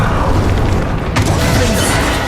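A Bombarda blasting spell goes off in Hogwarts Legacy, a loud, dense booming burst that fills the whole moment, with a sharper crack partway through over continuous rumbling game noise.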